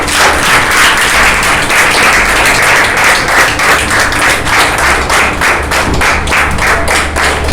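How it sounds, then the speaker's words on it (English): Hearty round of applause from an audience at an awards and recognition ceremony, loud close clapping with audible individual hand strikes and some low thumps, steady across several seconds without speech. "please welcome with a big round of applause our communication trainer"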